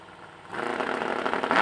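A drag racing car idles at the starting line at an end-of-year custom car event, then its engine swells into a louder, rising revving roar that builds toward the end.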